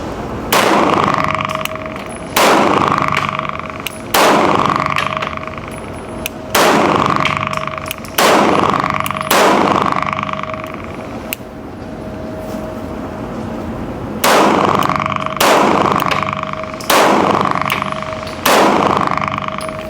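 CZ handguns fired at an outdoor shooting range give a series of loud, sharp gunshots at irregular intervals, some in quick pairs, each followed by a short echoing decay, with a quieter pause midway through.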